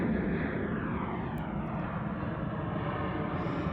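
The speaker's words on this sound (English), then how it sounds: "There's an airplane." An airplane passes overhead by the San Francisco Bay, a broad steady engine roar that fills the sound evenly from start to finish, loud and continuous.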